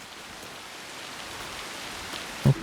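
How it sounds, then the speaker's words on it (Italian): Steady rain patters down in the video game Assassin's Creed Shadows, a soft, even hiss with no voices, and a brief louder thump lands near the very end. "è iniziato a piovere"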